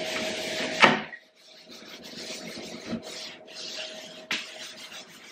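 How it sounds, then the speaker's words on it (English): A flat-sided sponge scrubs a countertop sprinkled with Comet bleach cleaning powder, giving close, steady rasping rubs with a sharper scrape near the start and brief pauses between strokes. "I am using the flat side of the sponge,"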